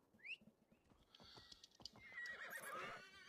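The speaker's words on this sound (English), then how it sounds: "You also have a horse. If I call my mount." A horse mount in the Assassin's Creed Valhalla video game gives a loud whinny and neigh, followed by clip-clopping hooves and rustling movement that build into a steadier rush of sound.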